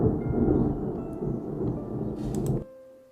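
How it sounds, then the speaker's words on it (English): Thunder sound effect synced with flashing lightning: a deep, rolling rumble that swells and churns for a few seconds, then cuts off abruptly, with faint rain hiss. "I have synced the sort of flashing lightning effect with the thunder audio"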